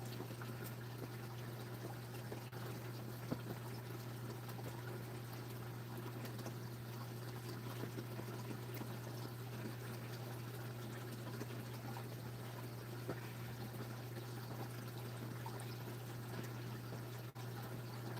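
Steady, even rush of an outdoor waterfall running beside a bonfire in the countryside, a constant broadband wash of falling water with a low hum underneath, no voices.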